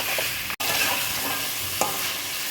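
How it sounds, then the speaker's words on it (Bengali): Magur catfish stir-fried in spice paste, for a curry with bean seeds, sizzle loudly and steadily with scraping stirring noises close by and a brief break in the sound. "এখন ধুয়ে রাখা মাগুর মাছগুলো আমি এর মধ্যে দিয়ে দিচ্ছি। আর এই মাগুর মাছগুলো দিয়ে আমাদেরকে এই মশলাটা দিয়ে 2 থেকে 3 মিনিট একটু ভালো মতো কষাতে হবে।"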